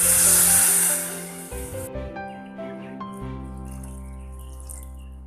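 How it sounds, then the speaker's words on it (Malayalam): Water poured into egg curry gravy in a home kitchen gives a brief, loud splashing gush that fades within about two seconds, leaving quieter steady tones behind. "നമുക്ക് ഇതിലേക്ക് ആവശ്യത്തിന്, ഗ്രേവിക്ക് ആവശ്യത്തിനുള്ള വെള്ളം ഒഴിച്ചു കൊടുക്കാം."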